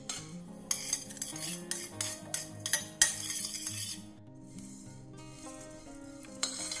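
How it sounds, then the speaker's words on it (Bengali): Black peppercorns are lightly dry-roasted in a pan for lemon pickle, rattling and scraping as they are stirred with a utensil, giving close clinks and brief taps over a faint sizzle. "এবার এটা হালকা একটু রোস্ট করে নেব, খুব ইয়ে করে ভাজবো না, যাতে এর শুধু ময়েশ্চারটা একটু চলে যায়।"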